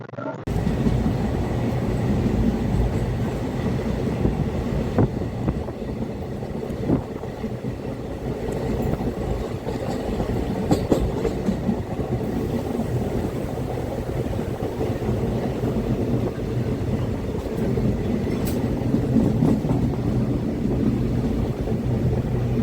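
The Kanchanjangha Express passenger train runs on the Kolkata to Guwahati line, heard from inside as a continuous loud rumble and rattle with occasional clanks and no pause.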